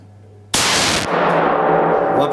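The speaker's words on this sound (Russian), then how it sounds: "И четвертый, да, выстрел?" A single loud shotgun blast from an MP-155 fired while zeroing at targets. The sharp broadband crack is followed by a long, dense echo and rumble that rolls on to the end, with no talk.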